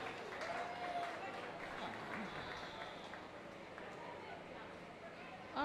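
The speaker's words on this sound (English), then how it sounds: "Everybody give them a round of applause." An audience applauds after a Native dance group's performance at an outdoor dance ground, a steady wash of clapping with crowd chatter and a voice speaking over it.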